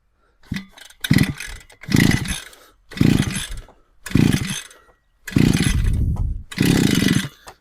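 A Procraft T4200 petrol brush cutter is pull-started repeatedly, six loud rasping bursts of cord and engine turnover separated by short pauses, close up with no talk.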